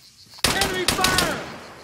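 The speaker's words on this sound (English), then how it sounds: "Enemy fire!" Enemy gunfire in the military shooter Arma 3: after a quiet moment, two loud close bursts of rapid automatic fire with a ringing echoing tail, and a voice shouting over the shots.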